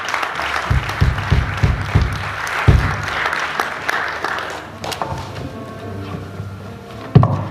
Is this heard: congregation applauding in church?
yes